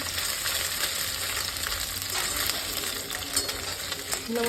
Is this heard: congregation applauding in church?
no